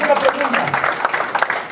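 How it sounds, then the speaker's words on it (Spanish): A church congregation claps together, a short burst of dense handclaps with faint voices mixed in, fairly close and steady throughout. "Démosle un aplauso fuerte a Dios."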